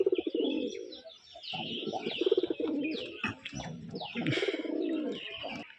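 A white male pigeon with a black beak coos in close, repeated throaty phrases with short pauses, mixed with brighter chirping from other birds nearby and no talking over it.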